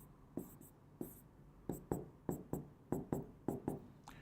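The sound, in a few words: writing on a board while drawing a chemistry structure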